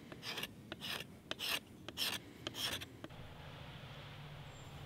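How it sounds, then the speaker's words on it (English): Close, quiet rasping as wood is scraped and sanded from an axe handle to fit the head, six or so rhythmic strokes that stop partway, leaving faint room hiss. "you might need to scrape and sand off some wood to fit the head"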